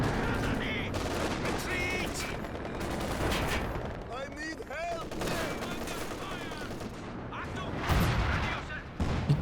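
Howitzers fire a counter-barrage in Company of Heroes 2 during a 2v2 match. Continuous booms and gunfire fill the scene, with a voice talking over the battle.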